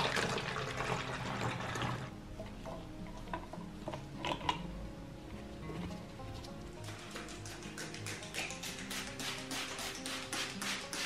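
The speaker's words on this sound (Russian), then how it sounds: "Теперь переливаю." Homemade cleaning liquid is poured into a spray bottle: a quiet, trickling flow of liquid with small plastic knocks, then a run of brisk, evenly spaced ticking splashes toward the end.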